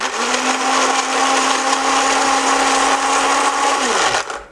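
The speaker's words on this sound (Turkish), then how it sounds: "Sıra geldi serinin en eğlenceli kısmına blender'ı yerleştirmeye." A blender runs steadily at high speed making salad dressing with walnuts, with a constant motor whine, then winds down and stops near the end.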